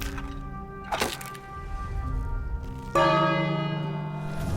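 A loud bell in the video game King's Quest rings with a sharp strike, its tone lingering, then a second heavier clang rings out and sustains with rich overtones.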